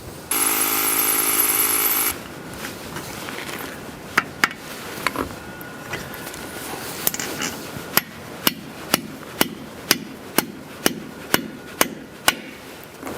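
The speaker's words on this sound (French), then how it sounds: "je peux le fixer au sol avec des chevilles à frapper" A hammer drives strike anchors to fix a garden shed door sill to the floor, first a short burst of power-tool noise, then a series of sharp metallic blows that quicken into a regular, close rhythm.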